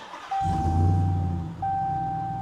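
A Ram 1500 TRX pickup's engine cranks and fires into a loud, deep idle close by, with a steady chime sounding over it that briefly cuts out before returning.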